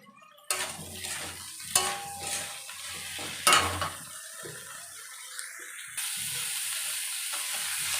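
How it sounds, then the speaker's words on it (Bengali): Potato and cauliflower pieces fry in oil while being stirred, with a steady close sizzle punctuated by several loud spatula scrapes and knocks against the pan, without any speech. "আলু কপিকে ভালো করে নেড়ে চেড়ে লাল লাল করে ভেজে নিতে হবে।"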